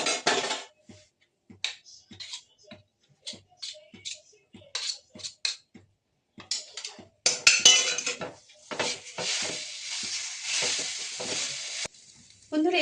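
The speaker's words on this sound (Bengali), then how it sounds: "গ্যাসটা আমি কমে দিয়ে এগুলো ভাজছি" Mawa gujiya filling fries on low heat in a pan, with a spoon scraping and clinking against the metal in short irregular bursts, then a longer stretch of soft sizzling with more stirring.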